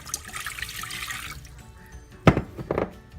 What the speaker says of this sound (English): you're going to put 2 cups of water